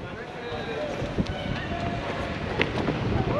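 Strong wind buffeting outdoors, a continuous loud roaring rush with gusty bursts, heavy and unbroken throughout.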